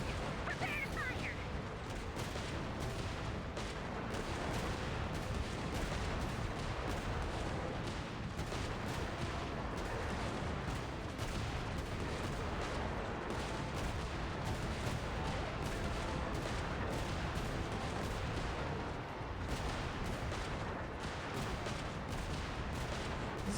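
Steady rumbling barrages of cannon fire in Genshin Impact, a continuous wash of booms and blasts lasting throughout, moderately loud with faint game sounds mixed in.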